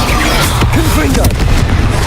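Confringo blasting spell cast in Hogwarts Legacy: a loud, close boom with crackling bursts in a busy combat mix, a voice speaking alongside.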